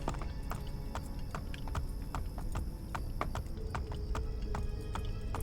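Horse hooves clip-clop on hard ground in the game Assassin's Creed Brotherhood, a steady brisk rhythm of sharp clacks over a low ambient bed, fairly quiet.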